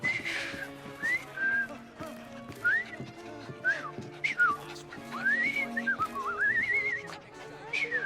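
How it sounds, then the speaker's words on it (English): Melodic whistled phrases in Assassin's Creed Syndicate, a character newly learned to whistle, rising and falling tunes repeated across the scene over a low ambient backdrop with faint horse and hoof sounds. "I've just learned to whistle."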